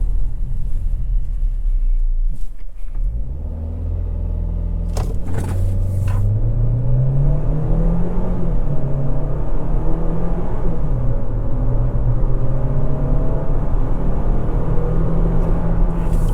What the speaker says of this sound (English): Now I'm going to try a quick acceleration when we get up to the straight line right here, so we can try it out.